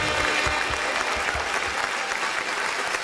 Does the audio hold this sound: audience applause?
yes